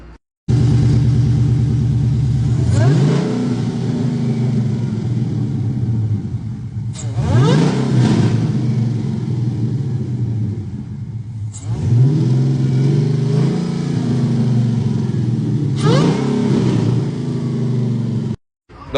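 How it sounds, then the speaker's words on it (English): Supercharged 5.7-litre Hellcat engine roars loudly up close through three long rising revs that each fall back to a steady idle, with no talking. "So I'm gonna start it up, give y'all some revs."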